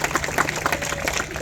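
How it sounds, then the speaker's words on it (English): A crowd claps steadily at a roller coaster media day at Dorney Park, a dense, continuous patter of many hands heard close and fairly loud without pause. "Yep, we can clap for that."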